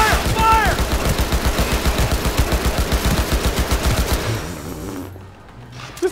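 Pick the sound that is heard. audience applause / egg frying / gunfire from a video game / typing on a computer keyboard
gunfire from a video game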